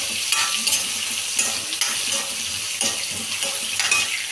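Mango pieces cook in a pan, giving a soft, continuous sizzle broken by scraping stirs and light clinks of a utensil against the pan, close and steady with no voices.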